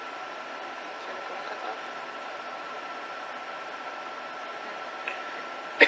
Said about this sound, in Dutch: Ik zit in de metro.